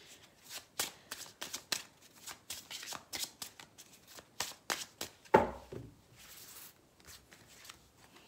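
Tarot cards shuffled by hand in a quick run of crisp riffling bursts, close and fairly quiet, followed by a single louder slap as cards are set down and a short soft shuffle.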